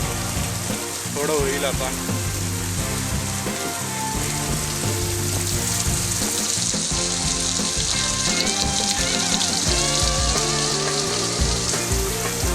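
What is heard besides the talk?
heavy unseasonal rain falling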